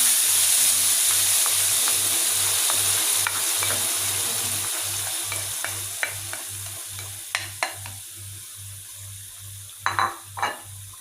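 Blended chili paste frying in hot oil for sambal merah gives a steady loud sizzle, with a rhythmic stirring scrape against the pan and a few sharp utensil clinks near the end.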